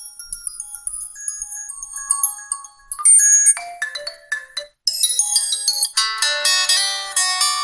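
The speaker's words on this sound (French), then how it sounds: "On va essayer d'écouter un peu au niveau du son, du téléphone et des sonneries." A QCONG Metal phone plays a series of ringtone and notification samples through its small speaker: bright, thin electronic chimes and melodies, changing every second or two, some brief and sparse, later denser and louder.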